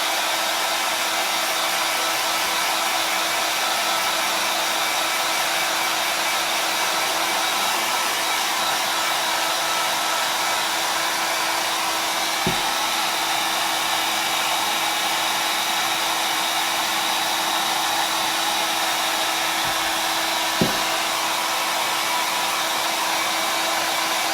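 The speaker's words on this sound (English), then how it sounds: "I'm going to use a hairdryer" A hair dryer blows continuously at close range drying chalk mineral paint on a tin project, a steady airy roar with a faint constant whine, holding level throughout with a couple of small clicks.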